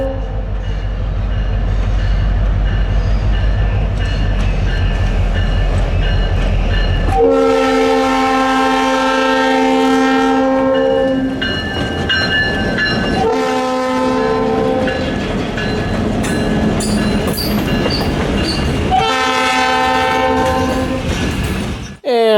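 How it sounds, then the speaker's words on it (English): A CSS freight train rumbles past up close with clattering wheels, led by locomotive 2006 and trailed by 2010, sounding three long, loud horn blasts over the continuous rolling noise. "the train rolled to a halt for the roll-by inspection"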